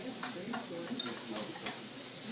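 Pancetta sizzles in a hot pan in a restaurant kitchen, a steady moderate fry with occasional soft pops and stirring clicks, heard alone without voices.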